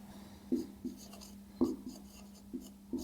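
Chalk or a marker writes a line on a board during a Class 10 geometry lesson on the Thales theorem, a few short, faint scratchy strokes over a low steady hum, with no talking.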